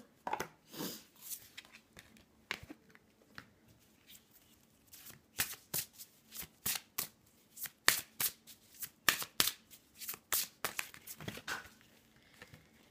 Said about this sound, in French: maintenant je vais prendre le tarot égyptien que j'ai pas pris depuis un petit moment. Et je vais tirer une seule carte.